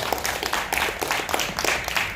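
An audience claps steadily for a professor after a lecture on the Han River bridge, a dense, even wash of applause from a full room lasting throughout.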